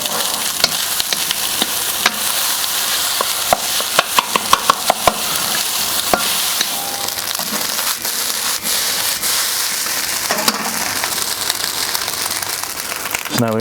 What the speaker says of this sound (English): We're going to continue to scrape the bottom of the pan